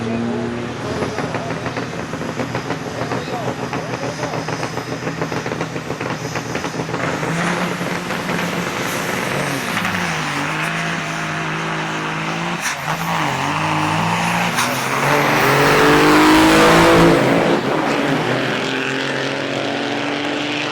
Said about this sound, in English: Laverne Zimmerman X15 in the AIS Royal Truck Lane going against Mike the Hammer Sturgill in his beautiful 78